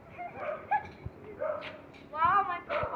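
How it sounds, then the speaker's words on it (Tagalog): A dog barks and yips in short bursts near a beachfront hotel, several quick barks mixed with people talking nearby. "Ang background music yung kahol ng aso."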